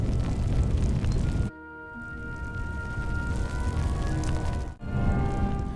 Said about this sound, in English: Sounded like there was an explosion along the tracks.